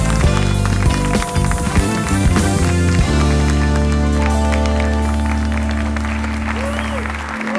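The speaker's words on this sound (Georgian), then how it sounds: "მეგობრებო, აპლოდისმენტები, შევეგებრებით." Studio audience applause welcoming chess legend Nana Ioseliani onto a late-night talk show, a loud, steady wash of clapping carried over a swelling musical sting with sustained low tones.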